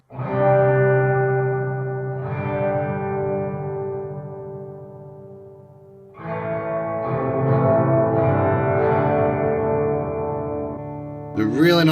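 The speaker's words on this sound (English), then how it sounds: "Turn the mix all the way up so we can just hear the reverb." Electric guitar played through a Sonicake Pocketmaster reverb pedal with the mix turned fully up: sustained strummed chords swell into a long, washy stereo reverb tail, with a brief pause and decay before a second strummed passage rings out.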